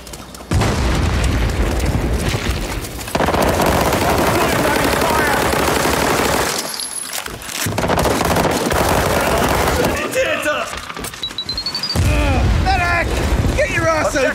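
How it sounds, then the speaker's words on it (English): In the war shooter World War 3, heavy automatic gunfire and booming explosions including a grenade blast fill the scene, loud and dense, with short lulls and voices talking amid the battle. "Fuck, grenade!"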